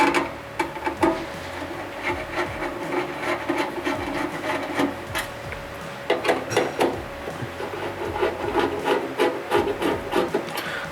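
A Phillips screwdriver backs screws out of the top bracket of a water fountain add-on, producing close scraping, creaking turns and light taps in irregular bursts.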